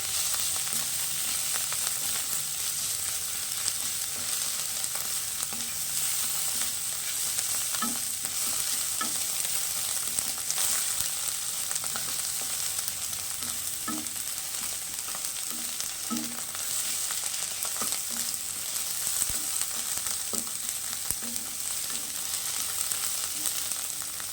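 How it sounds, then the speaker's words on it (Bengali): Egg tarka masala stirred in a pan over a low flame with ginger, garlic, dried and green chillies, giving a steady soft sizzle and frying hiss, with occasional spoon scrapes and clinks against the pan throughout. "সব এতে অ্যাড করে দিই দিয়ে নাড়ি গ্যাসটা লো ফ্লেমে করে দেবো"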